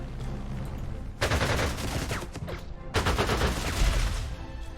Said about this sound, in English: Wow, that anti-aircraft gun is garbage.